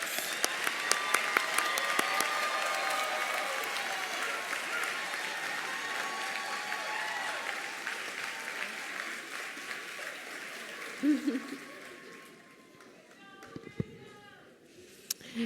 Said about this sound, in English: Let's have one more round of applause for all of our BSN graduates